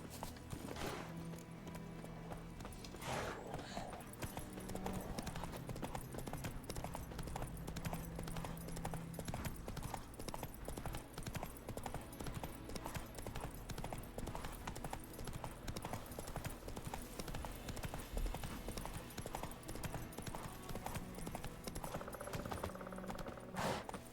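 Hooves of Roach the horse in The Witcher 3 clip-clopping in a steady, continuous rhythm for the whole stretch, fairly faint and close, with occasional game sounds layered over it and no voices.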